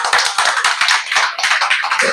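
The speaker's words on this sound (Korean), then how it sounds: "박수 한번 해주세요." An audience claps together in dense, continuous applause, loud and close, with many overlapping hand claps sustained throughout the short stretch.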